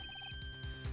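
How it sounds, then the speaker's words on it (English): A short electronic phone ringtone from the Phoenix Wright video game, a quick series of evenly spaced high beeps at moderate volume, followed by soft thumps. "I heard a phone ring just now."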